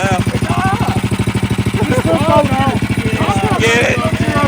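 A stick shift wagon's engine runs with a rapid, steady pulsing throb as the throttle is worked, loud and close, with voices talking over it.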